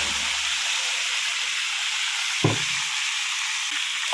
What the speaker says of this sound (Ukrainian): Жариться трошки з 10 хвилин м'ясо